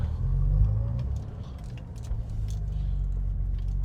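A 1967 Aston Martin DB6 coupe's engine rumbles low and steady as the car pulls onto the road, loudest near the start and holding an even drone with faint clicks above it.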